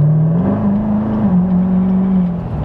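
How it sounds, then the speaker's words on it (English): A Corvette with an 8-speed automatic transmission accelerates and downshifts, its engine droning loud and close with a steady low tone that steps up in pitch twice as the gears change, then eases off at the end. "You just floored a little bit and it knows when to pick up."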